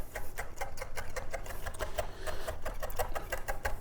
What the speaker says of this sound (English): And we're going to run our knife through it.